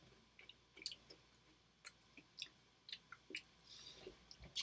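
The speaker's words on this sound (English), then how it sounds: "you gotta like really, really chew it" Someone chews a spicy keto snack right at the microphone, producing a series of soft, irregular crunching and squishing bites, fairly quiet, with no talk.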